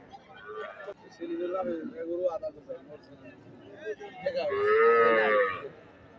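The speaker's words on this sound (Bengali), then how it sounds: "এদিকে দেখেন কত সুন্দর একটি ষাঁড় গরুর বাছুর" A bull calf at a cattle market gives several drawn-out moos, close and loud, with the longest and strongest near the end. Voices can be heard around it.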